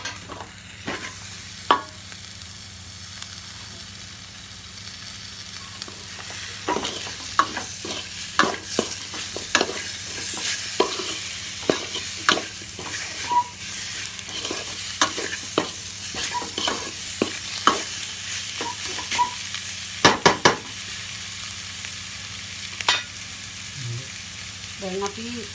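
Tomatoes and chili sizzle in hot oil in a pan while being stirred, a steady frying hiss broken by frequent sharp scrapes and clicks of the spoon against the pan, with no voices.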